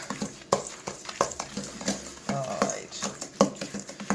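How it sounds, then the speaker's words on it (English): Eggs and granulated sugar being mixed for homemade brownie batter, with irregular clinks and scraping of a utensil against a bowl, close up and fairly loud. "we're going to mix this together"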